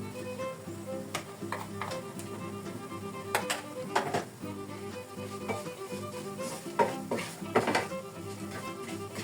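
Spice powders and coriander powder stirred into oil in a pan for squid curry, with quiet sizzling and a few distinct spatula scrapes and taps on the pan.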